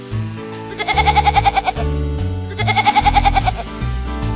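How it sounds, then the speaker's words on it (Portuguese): Two loud, close bleats from a goat, each a shaky, vibrato-laden cry separated by a brief pause, over a constant low background tone. "cabra"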